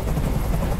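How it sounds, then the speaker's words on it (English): A helicopter hovers overhead in a video game, giving a dense, continuous low rotor rumble that stays loud and steady throughout the brief moment with no talking. "I can't stand that noise anymore. Tell that helicopter to get out of here."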